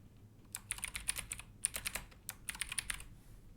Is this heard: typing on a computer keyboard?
yes